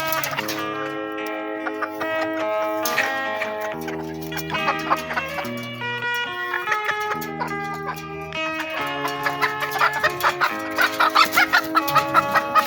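Domestic chickens, including a hen with her chicks, cluck steadily near the microphone with layered, overlapping calls under a dense musical background, no talking.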